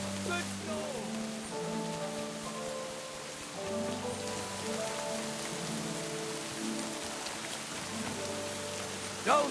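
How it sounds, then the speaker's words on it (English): Steady rain falls throughout on an outdoor surface, a dense, even wash of drops close by with no break, while a low tonal hum runs underneath. "Don't mind the rain."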